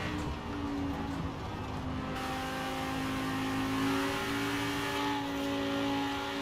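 A Lamborghini Huracan Performante engine in Forza Horizon 4 hums at steady revs, a continuous tonal drone that holds fairly constant and shifts slightly in pitch partway through, with no voices.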